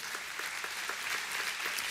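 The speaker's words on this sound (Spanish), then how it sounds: "Dale un aplauso a Dios por eso." A church congregation claps steadily and densely, with the applause filling the room at an even level for the whole two seconds and no talking over it.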